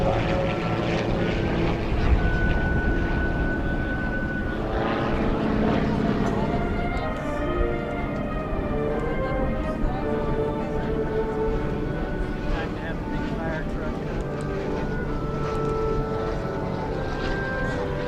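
World War II trainer propeller aircraft landing at the 2017 Wings Over Houston air show, a steady loud engine drone with shifting tones, under continuous announcer talk over the public address.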